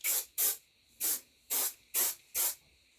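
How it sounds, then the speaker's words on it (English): Texture spray hisses from an aerosol can onto hair in six short, close bursts, each about a quarter second long, with brief pauses between them. "So I'll put in some texture spray. Go with my hairspray."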